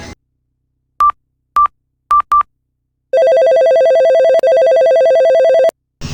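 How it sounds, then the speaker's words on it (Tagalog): Phone call in a Roblox Squid Game remake: four short dialing beeps, then a steady pulsing ringback tone for about three seconds, loud and alone, ending just before a voice answers. "Tawagan ko nga."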